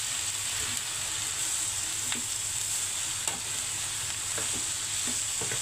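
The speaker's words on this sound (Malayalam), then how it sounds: "ഉള്ളിത്തണ്ടിട്ട് ഇനി ഇതൊന്ന് ഇളക്കി കൊടുക്കുക." Fried rice stirred in a pan after spring onion stalks go in, with a steady low sizzle of frying under scattered scraping and clinking of the spoon against the pan, close and continuous throughout.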